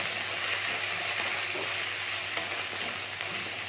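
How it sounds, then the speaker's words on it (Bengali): Ginger garlic paste fries with onions in hot oil for a jackfruit and prawn curry, a steady dense sizzle close up with a few light stirring scrapes and no talk. "এটাকেও আমি একটু ভেজে নেবো পেঁয়াজের সাথে।"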